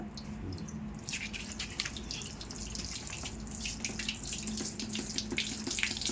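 A steady stream of water splashes and trickles close by, continuous and fairly quiet, with no one talking.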